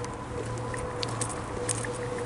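Rain begins falling on a Belfast city street, a soft, steady patter of light drops spreading evenly through the surrounding air with no voices over it.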